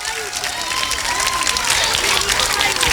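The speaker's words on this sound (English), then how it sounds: "Can we give all of our friends a big round of applause?" Crowd of parents applauding students at a school gathering, a thick steady wash of clapping with scattered cheers and a whistle-like rising tone, loud throughout.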